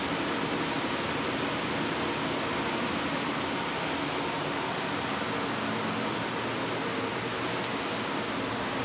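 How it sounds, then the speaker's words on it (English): Filtered air rushes steadily through laboratory safety cabinets, a dense, even whooshing roar that fills the space without pause or change. "These are safety cabinets, and there's filtered air constantly going through them."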